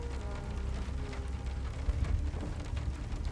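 Rain in the video game Hell Is Us, a soft, steady patter with a low rumble beneath, heard quietly and without talk.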